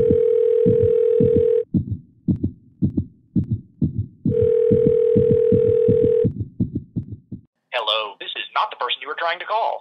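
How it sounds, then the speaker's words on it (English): A telephone dial tone sounds in two long steady bursts, interleaved with a rapid run of dialing beeps as the number is keyed in, followed by someone speaking briefly at the end. "Once I start dialing,"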